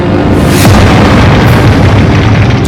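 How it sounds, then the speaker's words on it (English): Firework powder exploding in burning storage bunkers, a loud, continuous deep rumbling boom that fills the whole stretch, with no talk. "The finely milled powder clumps together, burning less evenly, and sometimes exploding more powerfully."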